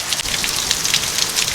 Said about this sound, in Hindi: तेज़ हवाओं के साथ बारिश भी अभी काफ़ी ज़्यादा तेज़ हो चुकी है।